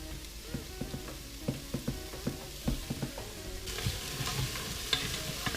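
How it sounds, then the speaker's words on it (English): Millet and Maya Coba beans stirred in an Instant Pot, with a spoon knocking and scraping in an irregular rhythm over a steady low sizzle that grows brighter near the end. "I'm just going to stir them around."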